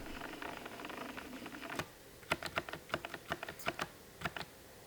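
Arrow keys on a computer keyboard click in a quick irregular series of sharp taps, close and fairly quiet over a steady hum of room noise, with no talking.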